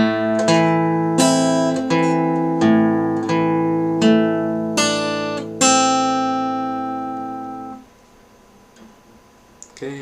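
A Naruto theme played slowly on guitar, a single picked melody with one clear plucked note roughly every second or so, each ringing out and decaying before the next, ending in a fading sustain with no talking.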